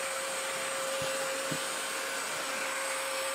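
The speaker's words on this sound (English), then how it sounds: "All you gotta do is basically lift your vacuum up and put it on top of the bigger pieces and it'll suck right on up." A Tineco cordless vacuum cleaner runs steadily on a hardwood floor, a close, constant high whine with an even airflow hiss, broken by a couple of faint soft ticks as debris is sucked up.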